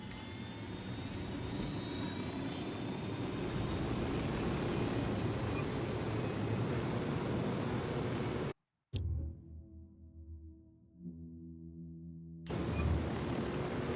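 A steady, close, loud roar from an aircraft engine while the aircraft is piloted in the video game Ghost Recon Wildlands, briefly cutting out to a quieter low hum before the full roar returns.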